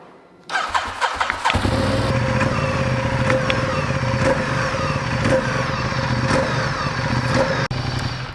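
A Ducati XDiavel motorcycle engine starts up close and settles into a loud, steady idle that runs for several seconds.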